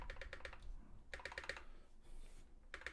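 Bursts of rapid keystrokes on a mechanical keyboard with Cherry stabilizers, crisp and close, in short clusters separated by brief pauses.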